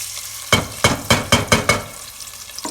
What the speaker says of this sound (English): Time for me to chuck in the fried onions.